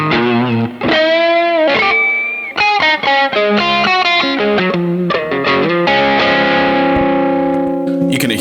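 Distorted electric guitar plays a choppy riff of short chords and sustained notes, washed in reverb set to zero pre-delay that blurs the attacks.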